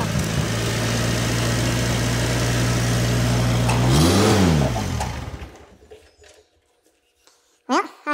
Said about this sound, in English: as you can see, the tractor now runs.